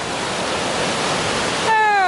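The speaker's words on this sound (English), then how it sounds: "Crossing the river for the last time on a nice snow bridge." River flowing beside a snow bridge in a mountain valley, a steady, loud rush of water heard close up, joined near the end by a brief rising whistle-like tone.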